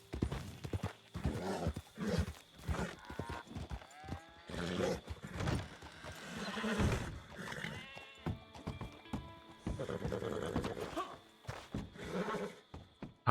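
Horse in Red Dead Redemption 2, heard as a fairly faint, uneven run of clip-clopping hoofbeats mixed with snorts and whinnies that come and go throughout.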